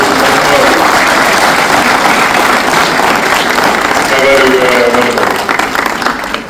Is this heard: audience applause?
yes